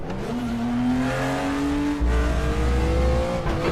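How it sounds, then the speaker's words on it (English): A race car engine in the RaceRoom racing game revs and climbs through the gears on cold tyres, giving loud rising whines broken by sharp shifts, close and continuous with no talking. "God, this car sounds amazing."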